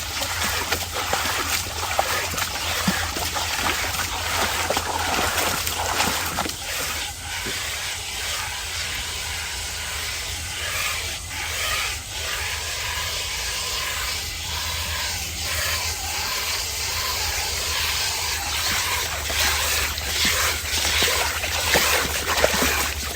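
A horse drinks and splashes in water in Florida, with irregular sloshing splashes and trickles over a steady hissing background, close and moderately loud, with no voices.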